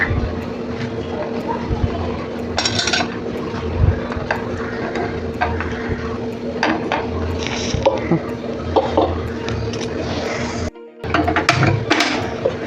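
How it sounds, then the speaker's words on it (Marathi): Guar cluster beans being washed in a pot of water, with dull sloshing, splashing and occasional clinks of the pot, fairly close and steady over a low background hum. "आता इथं पाणी घेतले धुण्यासाठी पाण्यात टाकते मी"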